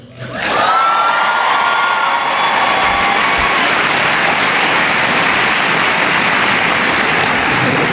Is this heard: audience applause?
yes